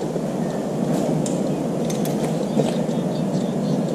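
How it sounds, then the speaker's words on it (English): Torque wrench ratcheting while checking the overdrive plug torque during a Laycock overdrive rebuild for a 1986 Volvo 745 Turbo: a continuous close, dense mechanical clicking and grinding, with a few sharper ticks on top. "Those plugs, let me check the torque on them."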